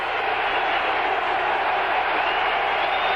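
A dense, roaring stadium crowd at a 1984 Boston College at Penn State college football game, sustained and loud without break, with broad cheering noise pushing the defense.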